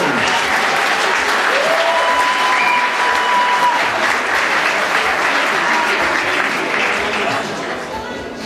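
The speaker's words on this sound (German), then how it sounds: "Und diese drei Teilnehmer verabschieden wir jetzt mit einem riesigen Applaus und einem Video." Loud, sustained audience applause at a men's championship final in North Rhinelan-Westphalia, dense clapping filling the room and easing off slightly toward the end, with no speech.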